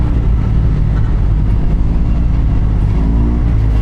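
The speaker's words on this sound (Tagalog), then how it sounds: "yung exhaust nito kung maririnig mo hindi siya ganun ka OA yung tunog" Exhaust of a 2023 Yamaha TMAX 560 scooter fitted with aftermarket upgrades, giving a steady, loud, close low rumble that holds evenly throughout with no talking.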